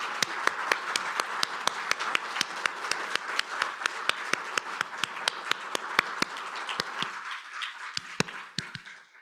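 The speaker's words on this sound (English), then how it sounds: "let's give one more big round of applause for the laureates." Applause for laureates at a presidential science award ceremony, with sharp, regular claps ringing out over a wider patter of hands; the crowd clapping thins and trails off near the end.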